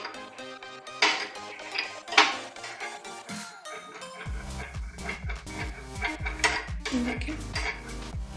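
Homemade skin cream ingredients mixed in a bowl, with a spoon scraping and clinking against the sides in irregular strokes and occasional sharper knocks; a voice speaks briefly.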